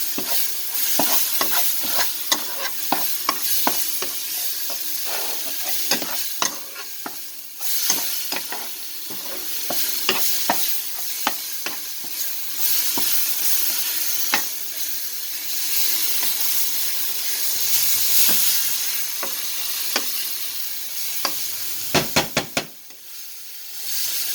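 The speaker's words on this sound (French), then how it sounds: "ici, on va remuer le tout. Donc, on mélange." Chickpea curry masala is stirred in a pan with rapid, repeated spatula scrapes and taps over continuous frying sizzle, close and loud throughout.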